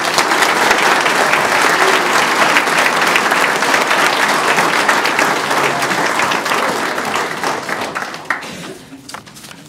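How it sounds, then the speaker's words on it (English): Sustained, full audience applause at a National Technical Honor Society induction ceremony, dense and steady for most of ten seconds before thinning and fading out. "Let's give them a round of applause."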